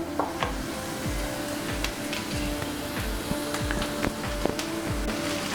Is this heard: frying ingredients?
yes